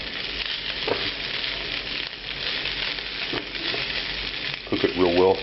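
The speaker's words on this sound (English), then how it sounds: "Here's the meat. We're going to cook a little bit of it at a time in here." Boar meat for Spanish-style carne asada sizzling in a very hot pan at 500 degrees, a loud, steady close-up hiss and crackle with a few stirring clunks and a brief burst of louder frying at the end.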